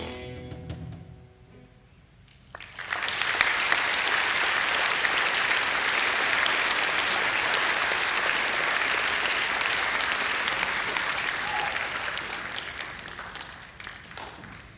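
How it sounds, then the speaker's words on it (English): A school assembly audience bursts into loud, sustained applause after a senior music class performance, following a few seconds of quieter tail from the music, then dense clapping that holds steady before slowly thinning. "Let's give them another round of applause."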